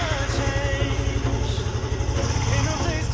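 Yamaha Mio Soul i 125 scooter engine running after an oil change to Shell Advance AX5, a close, steady idling putter with rhythmic pulsing and faint clatter.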